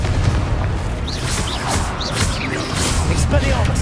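A Confringo fire spell blast in the Hogwarts Legacy video game, booming explosive impacts over a dense, continuous bed of battle noise with brief higher magical chirps.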